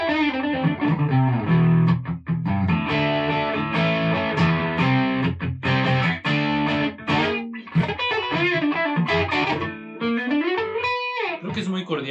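An electric guitar played through a NUX Horseman overdrive pedal rings out in sustained distorted chords and picked notes with bright, compressed tone, phrases broken by brief pauses, close and loud throughout.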